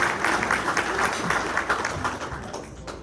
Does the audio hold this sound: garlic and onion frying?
no